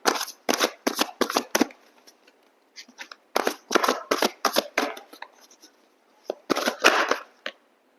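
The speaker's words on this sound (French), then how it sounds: "Je vais prendre les 3 cartes conseils avec le tarot des anges gardiens." Tarot deck of guardian angel cards being shuffled, a quick run of crisp riffling bursts, a pause with a few soft taps, then more shuffling and a final flurry, close and clear with no voice.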